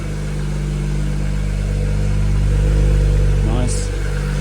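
A BMW 335i engine idles smoothly and steadily after valve cover and PCV repairs, a constant low hum close by with a brief chirp near the end.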